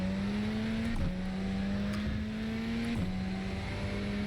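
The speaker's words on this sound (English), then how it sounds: "Ooh, a little bit throaty as well. The exhaust note sounds good" Throaty car exhaust droning steadily on the track at Bathurst, the engine note holding a constant pitch with two brief dips as gears change, loud and close throughout.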